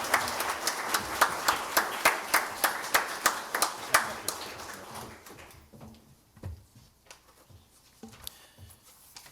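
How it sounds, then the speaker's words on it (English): A small audience at a first responder awards ceremony claps in a loud, brisk round that thins over several seconds into scattered, fading individual claps, heard nearby in an indoor room. "Dutchess County Director of 911 Tim Darcy, who deserves a round of applause."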